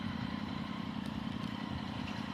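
A CV3 550 three-wheel scooter rides through city streets, its engine giving a steady, droning hum with road and wind rumble, continuous and close.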